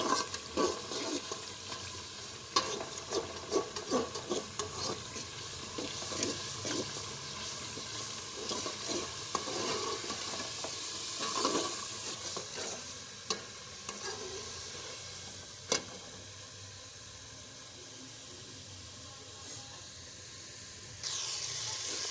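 Spiced masala with green chillies sizzling and frying in a pan for a pumpkin dal, with steady broadband hiss and repeated scraping stirs through the first half, then a calmer continuous sizzle with a few sharp clinks.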